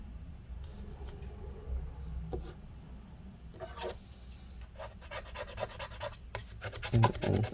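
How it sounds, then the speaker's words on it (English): Intermittent scraping and rasping as adhesive residue is worked off inside a Late 2016 13-inch A1708 MacBook Pro during battery replacement, short gritty strokes close up, growing busier toward the end. "I like to kind of scrape up this adhesive that's stuck there, the residue, so that way it's easier to clean off later with rubbing alcohol"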